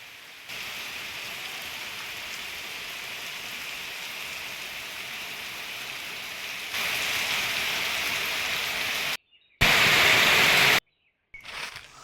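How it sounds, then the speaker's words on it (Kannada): Monsoon rain falls steadily on a garden, a dense even hiss that swells louder partway through, then breaks off briefly near the end. "ಇವತ್ತು ಕೂಡ ಮೋಡ ಇದೆ ಗುಡುತ್ತಾ ಇದೆ ಮಳೆ ಬರುವ ಕಾಣಿಸ್ತಾ ಇದೆ"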